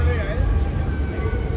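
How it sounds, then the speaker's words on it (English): A New York subway 2 train rumbles along heavily from inside the car, with a low roar and thin squealing from the wheels, carrying on continuously through the stretch. "we just took the 2 train from Manhattan"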